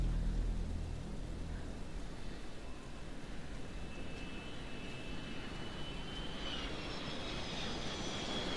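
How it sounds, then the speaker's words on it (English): An airplane passes overhead in the video game Hidden Agenda as a steady broad jet roar, joined by a rising high whine toward the end, moderately faint and with no talk. "It's gotta be a plane, right?"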